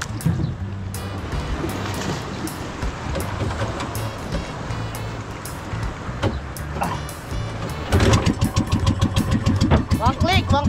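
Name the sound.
boat engine starting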